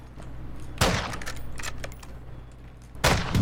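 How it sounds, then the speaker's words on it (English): Sniper fire in the video game Warzone Resurgence: two sharp, loud shots crack about two seconds apart, with fainter rattling gunfire between them and no talk. "Sniper over here, shooting at me."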